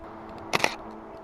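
A handheld camera's shutter fires once close up outdoors while shooting nature textures, giving a quick double click of mirror and shutter against a quiet background.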